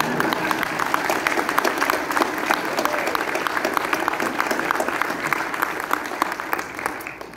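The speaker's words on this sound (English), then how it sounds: "would you applaud my wife for putting up with all this?" Audience applause fills a room at a council inaugural meeting, a steady dense clapping that holds for several seconds before tapering slightly at the end.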